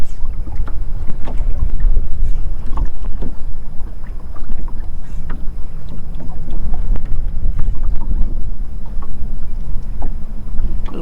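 Strong gusty wind buffets and roars over open water while fishing for white perch from a small boat, a loud continuous rumble with scattered knocks and splashes close by.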